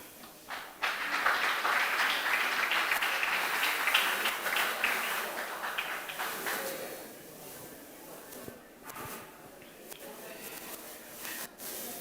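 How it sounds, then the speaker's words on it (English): Audience clapping an ovation at an international student dinner, a dense wash of many hands that rises loud and steady for several seconds, then thins and fades toward the end. "Please, with a clapping ovation, let's make welcome Tanzania."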